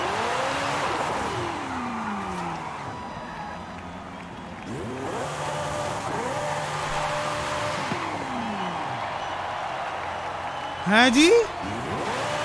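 Modified Porsche Carrera S engine revving and running close by, a steady engine drone with rising and falling pitch sweeps, a sharper rev burst near the end, under a few spoken words.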